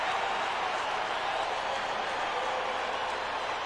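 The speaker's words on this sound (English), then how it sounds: "with the crowd in full throat" A football stadium crowd at a 2002 Raiders at Broncos game in Denver roars in a steady, dense wash of noise, loud and continuous throughout.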